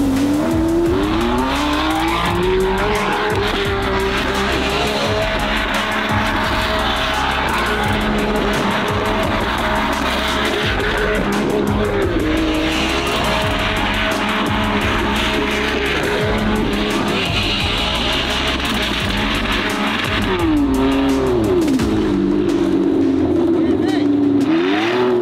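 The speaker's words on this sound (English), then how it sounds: "Jump out here and let me do some snow donuts." A supercar spins donuts on snow on delivery day, the engine revving hard and wavering as the tires skid and squeal for a sustained, loud stretch close by, the revs rising near the end.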